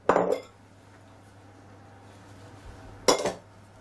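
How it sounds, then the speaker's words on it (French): A fork clinks against a bowl while mixing ground almonds, sugar and flour, two sharp bursts of scraping and clinking at the start and near the end with quiet in between, close and alone. "Nous allons mélanger déjà les trois ingrédients secs, les amandes, le sucre et la farine."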